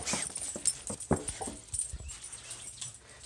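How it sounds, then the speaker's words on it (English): Dogs whimper and let out short yips close by, in a run of high, uneven cries and little barks during a home unboxing, with no one talking. "Not only is there a box, there are dogs."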